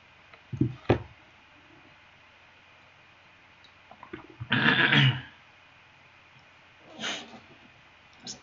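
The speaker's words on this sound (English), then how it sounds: "I keep having to clear my throat" Someone clears their throat a few times at close range, with a couple of short rough bursts and a longer harsh one in the middle, over a quiet room background.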